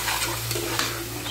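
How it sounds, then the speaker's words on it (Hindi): Chicken sizzles in a pan of spiced masala while being stirred for a tinday chicken dish, a brief close crackle with soft scraping and no talking. "मसाला भून लिया अच्छे तरीके से, फिर मैं इसमें चिकन ऐड करूँगी"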